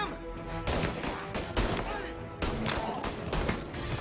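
Gunfire in the game Mafia Definitive Edition, rapid bursts of shots in two dense volleys with brief gaps, loud and close, with a voice faintly mixed in.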